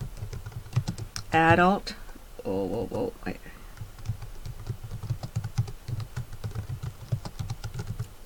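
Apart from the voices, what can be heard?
typing on a computer keyboard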